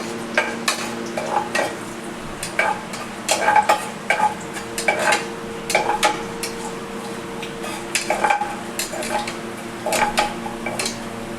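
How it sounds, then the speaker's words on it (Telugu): Dried red chillies fry in a pan with lentils, a soft steady sizzle under frequent sharp clinks and scrapes of a spoon stirring against the metal. "ఎండుమిరపకాయలు అవి ఇదిగో కొంచెం అవి దోరగా వేగాలి."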